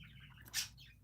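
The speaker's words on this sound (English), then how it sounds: "The birds." A bird gives a single quick, bright chirp outdoors, brief and moderately close, over a low steady background.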